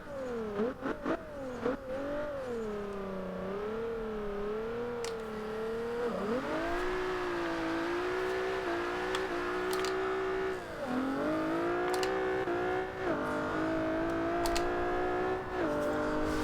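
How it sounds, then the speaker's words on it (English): Turbocharged Nissan 370Z engine in the racing game Forza Horizon 2 on Xbox One, revving loudly and continuously with rising and falling pitch through gear changes, a turbo whine layered over the engine drone. "now I'm starting to hear that turbo a little more."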